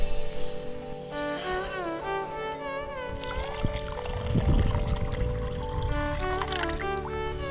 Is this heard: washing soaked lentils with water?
yes